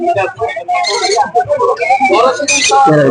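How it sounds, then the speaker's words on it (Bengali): Caged birds at a busy bird market, including budgerigars, Java sparrows and cockatiels, chirp and squawk in bright overlapping calls, mixed with nearby human voices. "খুব সুন্দর সুন্দর পাখি"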